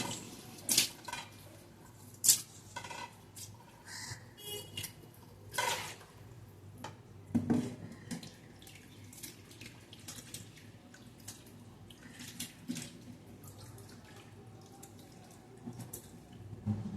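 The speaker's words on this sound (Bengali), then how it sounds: "আগে পুঁটি মাছগুলো ভালো করে ধুয়ে নিই।" Puti fish are rinsed in water, with soft, intermittent splashing, trickling and light clinks of a pot or bowl, heard fairly faint and close.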